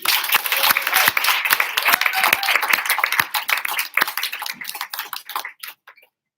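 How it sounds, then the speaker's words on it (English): Audience applause for Peo, who is about to give a short introduction, dense clapping that gradually thins into scattered individual claps before stopping after about six seconds. "round of applause for Peo, please"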